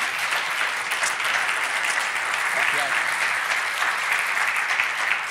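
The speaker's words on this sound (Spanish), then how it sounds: "Y ahora sí, un fuerte aplauso para Margarita." A strong round of applause from an audience at an anniversary celebration, steady crowd clapping with a brief voice or two heard through it.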